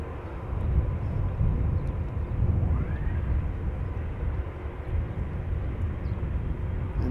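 An airliner taxiing at Amsterdam Schiphol Airport toward the cargo platform, its engines giving a steady, low, broadband roar that holds at an even level throughout.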